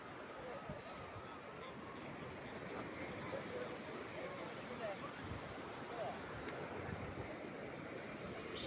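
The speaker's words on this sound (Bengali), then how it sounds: "সমুদ্রের ঢেউ" Sea waves break steadily on Puri beach in the early morning, a continuous broad wash of surf close by, with a faint murmur of people walking along the shore.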